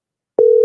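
A phone's WhatsApp call tone begins partway through: a single steady, loud electronic tone held alone after a short silence.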